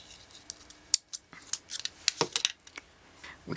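Small scissors snip beading thread in a series of sharp, close clicks and cuts spread irregularly over a few seconds, with no talk.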